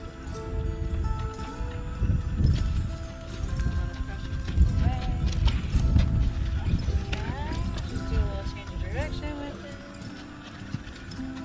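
Horses' hooves clip-clop on the ground during liberty training with a rescue horse, a steady rhythm of hoofbeats under rustling and occasional whinny-like tones, with people talking throughout.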